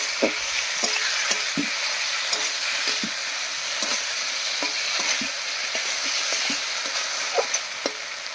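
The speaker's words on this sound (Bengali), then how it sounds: "জিরা আর ধনিয়া বাটা একসঙ্গে দিয়ে দিচ্ছি টমেটো কুচি এবারে খুব ভালো করে মিশিয়ে নিচ্ছি" Cumin and coriander paste with chopped tomato being stir-fried for a masoor dal and pointed gourd dish, a steady close sizzle under repeated scraping stirs of the spatula.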